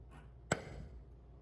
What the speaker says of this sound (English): the spring tool. This is going to make an indentation so that this way it'll guide my drywall anchor into the hole